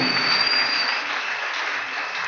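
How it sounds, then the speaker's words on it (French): A church congregation applauds the Lord, a continuous, even wash of clapping that fades slightly toward the end, with no speech over it. "Applaudissons fort le Seigneur"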